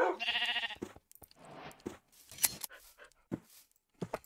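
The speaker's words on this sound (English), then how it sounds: "I sheared the sheep and it did not drop the wool" Sheared sheep in a video game giving short bleats, faint and intermittent between quiet gaps.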